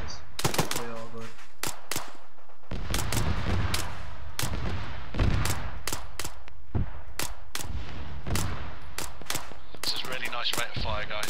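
Gunfire in the video game Arma 3 during a night firefight: repeated sharp shots and short bursts crack at steady intervals while players talk over team radio between them.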